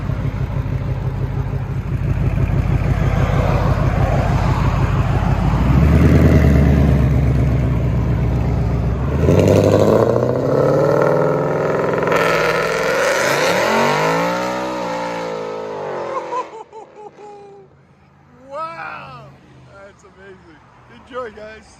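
A procharged Ford Mustang GT with a 5.0 Coyote V8, long-tube headers, high-flow cats and stainless active exhaust, loud and close as it revs and roars, then the engine drops away into fading, quieter revs near the end.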